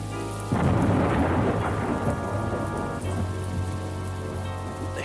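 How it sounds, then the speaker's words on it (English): Steady heavy rain falls in a thunderstorm, with low rolling thunder rumbling underneath. The sound is continuous and fairly loud, and no one speaks. "it looks as though a storm is on the way"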